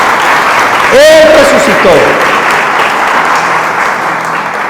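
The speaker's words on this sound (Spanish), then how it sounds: "Den ese aplauso a Jesús." A church congregation applauds during a sermon, a steady, full wash of clapping that runs throughout while a preacher's voice speaks over it.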